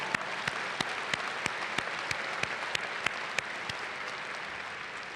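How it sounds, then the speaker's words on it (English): A large crowd at a graduate school commencement claps steadily, a broad sustained wash of applause with a few sharper individual claps ticking through at a regular pace, holding even and fairly loud throughout. "This deserves a round of applause."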